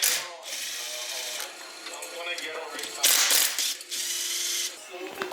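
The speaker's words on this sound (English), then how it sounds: "can pretty much pull all the case bolts out" A ratchet clicks rapidly and almost without pause while backing out engine case bolts on a 70cc build. The bursts come up close and loud with brief breaks between them.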